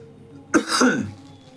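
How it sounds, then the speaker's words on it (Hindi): A single short cough bursts out after a moment of near silence, then trails off quickly. "थोड़ा खांसी आ जाती है।"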